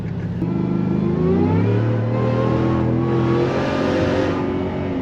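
A 2019 Ford F-150 fitted with a Gen 5 Stage 2 Whipple supercharger revs under throttle, a loud, close, sustained engine roar whose pitch climbs and swells then eases, with no talking over it.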